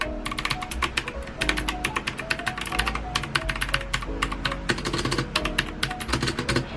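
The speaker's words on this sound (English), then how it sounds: "I'm just randomly typing." Fast, random typing on a Magegee mechanical keyboard, with bright clicky keystrokes in quick bursts and short pauses, heard close and clear with no talk.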